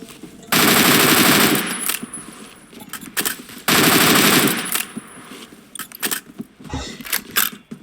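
An automatic rifle in the shooter game Phantom Forces fires two long, loud sustained bursts separated by a pause, followed by scattered clicks and smaller shots.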